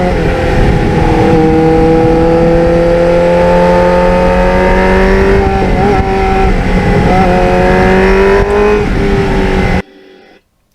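A 1989 Kawasaki GPX750R Ninja motorcycle under hard acceleration roars loud and close, its engine note climbing steadily through the gears before cutting off abruptly near the end.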